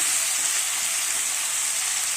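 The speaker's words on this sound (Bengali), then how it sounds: "এবার আমি এগুলোকে ভালো করে ভেজে নেব" Vegetables for Bengali shukto fry in a covered pan with a touch of turmeric, making a loud, steady, close sizzle with no voices.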